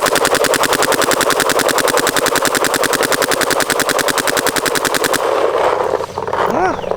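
A DLX Luxe Idol paintball marker with the stock bolt firing a long, rapid, evenly spaced stream of loud pneumatic shots at close range, then stopping, followed by brief faint background noise.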